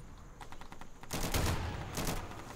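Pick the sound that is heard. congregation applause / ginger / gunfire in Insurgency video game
gunfire in Insurgency video game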